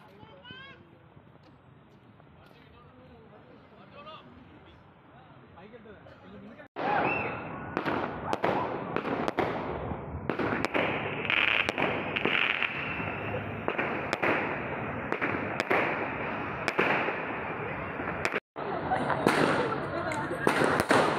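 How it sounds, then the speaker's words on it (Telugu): Diwali fireworks and firecrackers at a celebration in the UK: after a quieter stretch with voices, a long barrage of sharp, loud crackling bangs erupts in rapid irregular bursts, with people talking underneath. "దివాళీ సెలబ్రేషన్స్ లాగా అండ్ బాంబులు కాల్చారు"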